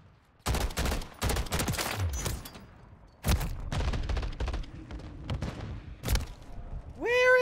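Bursts of gunfire from Call of Duty Modern Warfare 3, loud rapid volleys in clusters with short pauses between, a tonal rising chirp near the end.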